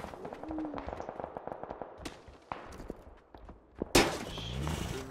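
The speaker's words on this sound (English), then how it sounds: "Who the fuck is even shooting anymore?" Gunshots ring out from an upper floor of a building, several sharp cracks scattered irregularly amid street noise, with one louder, nearer report followed by a brief mechanical whine.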